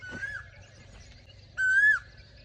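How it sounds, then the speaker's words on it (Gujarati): Birds, including koels, feeding in a peepal tree; two clear whistled calls, the second louder and held briefly, over a faint low background hum. "કોયલ ને ઓલા અલગ પ્રકારના ઓલા ને બધા આવી ગયા છે ખાવા."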